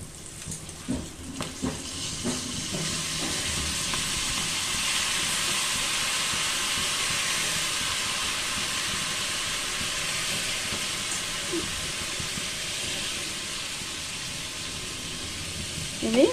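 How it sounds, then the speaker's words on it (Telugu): Turkey berries frying in hot oil for a masala pickle, a steady, even sizzling hiss that holds throughout, with a few faint clinks and a stir near the start. "ఇది మంచిగా ఫ్రై కావాలండి, సగం ఫ్రై కావాలా."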